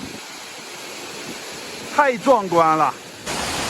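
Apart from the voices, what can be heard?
loud waterfall at Jiuzhaigou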